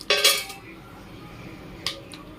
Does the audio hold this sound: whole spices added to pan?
yes